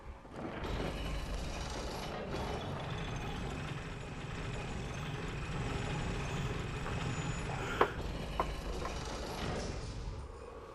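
Elevator ride in the video game Bloodborne: a steady low mechanical rumble and grinding hum runs throughout at moderate level, with a couple of brief clanks near the end.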